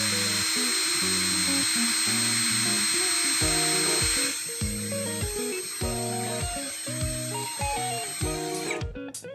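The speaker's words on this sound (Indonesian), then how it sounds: "Di sini saya menggunakan mode drilling di percepatan nomor 1 terlebih dahulu." A cordless brushless drill runs in drilling mode at its lowest speed setting, about 344 RPM, with a steady whirring hiss for most of the run before it stops near the end. Tonal background sounds play underneath throughout.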